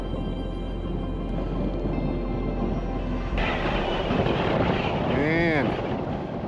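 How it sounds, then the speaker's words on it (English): Strong wind in the mountains of Rocky Mountain National Park buffets the microphone with a constant loud roar that surges halfway through, with a brief faint voice-like warble near the end. "Man, this wind is killing us."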